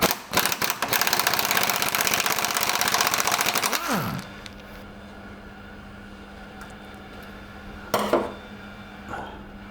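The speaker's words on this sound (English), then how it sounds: "We're just going to take these rear trunions off now, so hopefully these will come straight up." Heavy metalwork noise as the rear trunnions are knocked off a classic Mini subframe: a loud burst of dense clattering and grinding for about four seconds, then quiet hum with two brief sharp knocks near the end.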